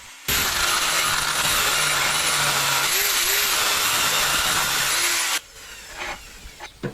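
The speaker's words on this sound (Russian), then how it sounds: "Так мы теперь болгаркой разрежем в длину и корпус разберем." A loud high-pitched angle grinder whine cuts steadily lengthwise through a pump motor housing for about five seconds, then stops abruptly, followed by a few faint clanks and handling noises.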